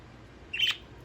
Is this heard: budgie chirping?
yes